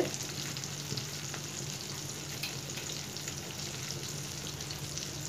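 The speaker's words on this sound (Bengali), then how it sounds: "মাছটা আমার বেশ কিছু সময় ধরে ভেজে নিয়েছি" Hilsa fish fries in mustard oil with a soft, continuous sizzle and crackle that stays even and fairly quiet throughout.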